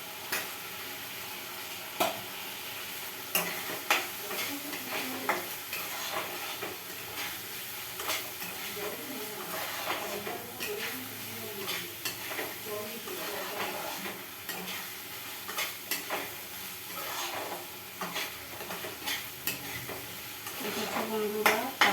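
Potatoes and prawns fry in a pan, a low steady sizzle under repeated scraping and clinking of a spoon stirring against the metal, heard close and fairly quiet, without talking.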